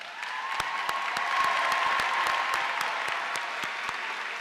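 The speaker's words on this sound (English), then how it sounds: "please stand for a round of applause." A high school commencement crowd applauds graduates headed into military service, a broad sustained wash of clapping with a few sharp nearby claps standing out.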